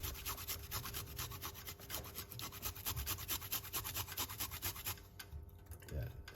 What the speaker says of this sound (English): So the best thing is to grate the ginger.